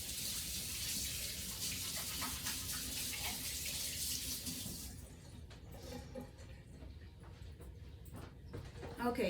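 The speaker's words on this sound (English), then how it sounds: "I'm gonna rinse my hands because I've got these little skins stuck." Water from a kitchen tap runs steadily over hands being rinsed of garlic skins for about five seconds, then shuts off, leaving faint handling and drip sounds nearby.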